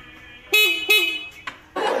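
Two short honks from a motorcycle horn in cold weather, sharp and close, followed by a brief click and a burst of engine or rustling noise.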